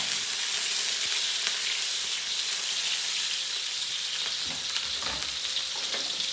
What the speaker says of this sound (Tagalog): Ngayon, isali, ilagay na natin itong sibuyas bawang.